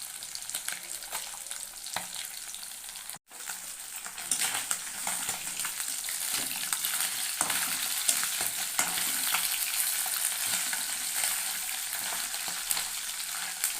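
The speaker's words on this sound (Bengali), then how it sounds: "মাছগুলো ভালো করে কড়া করে ভাজ ভাজবো" Tengra fish frying in a pan, a constant bright crackling sizzle with occasional stirring scrapes, close and steady, briefly cutting out for a moment before resuming; no speech.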